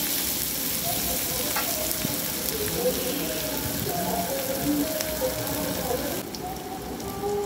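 Onions fry in a home kitchen pan, giving a continuous close crackle and sizzle like light rain, with faint clinks, easing slightly near the end.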